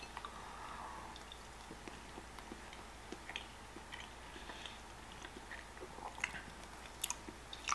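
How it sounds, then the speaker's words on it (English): A bite taken from a creamy sugar cookie cheesecake, followed by soft, close-up chewing with small moist clicks and squishes, all faint and quiet. "Let's go with the first bite."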